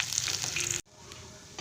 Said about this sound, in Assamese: ৰঙালাও পাতখিনি গলালৈকে এনেদৰে ভাজি ল'ম।